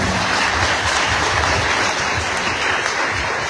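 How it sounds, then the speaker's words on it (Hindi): Strong, steady applause from a large gathering at an education department event in Bihar, honoring a top-ranked student, a dense unbroken roar of clapping throughout. "जरा उसके लिए जोरदार ताली बजाओ"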